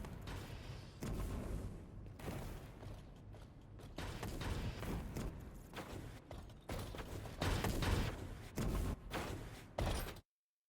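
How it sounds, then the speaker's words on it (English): Rapid, noisy bursts of explosions and crackling shrapnel pile up continuously in the game Exoprimal, loud and dense, with booms and clattering impacts before stopping suddenly. "Explosions, shrapnel, music to my ears."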